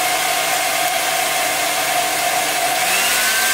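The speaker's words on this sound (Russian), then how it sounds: "я решила взять обычный фен для сушки волос" A hair dryer on its strongest, hottest setting blows loudly and steadily up close, a constant whirring roar with a high motor whine.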